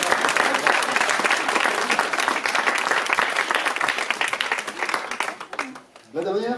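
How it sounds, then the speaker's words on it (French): Audience at a hypnosis conference for health professionals breaks into sustained applause, dense clapping that fills the room and fades near the end, where a voice starts to speak. "Il faut l'applaudir d'ailleurs."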